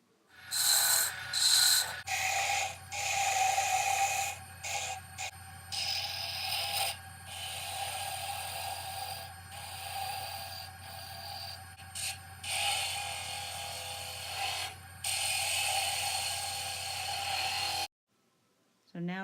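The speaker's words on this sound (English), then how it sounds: "I'm now rounding it down with a roughing gouge" A roughing gouge rounds down a workpiece spinning on a wood lathe, giving a continuous rasping, scraping whir broken by brief pauses as the tool lifts, fairly loud throughout before stopping abruptly near the end.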